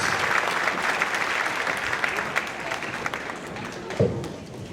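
Sustained audience applause fills a school concert hall after an all-district elementary band performance, steady dense clapping with a few louder individual claps and crowd murmur underneath.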